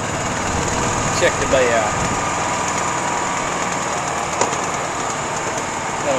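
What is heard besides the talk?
golf cart engine running during a ride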